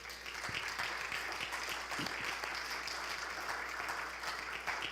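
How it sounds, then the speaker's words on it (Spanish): Church congregation clapping in praise of Jesus, a steady wash of applause from many hands, fairly faint and distant, continuing without pause. "Démosle un aplauso a Él."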